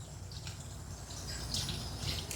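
Tap water runs steadily into a tub while a Shih Tzu is bathed during a grooming session, a soft continuous splash and trickle at low level with no talk over it.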